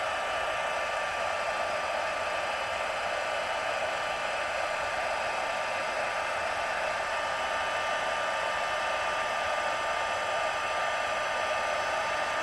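Heat embossing tool melting copper embossing powder, giving a steady, loud, whooshing blower hiss that runs unbroken for the whole stretch with no talking.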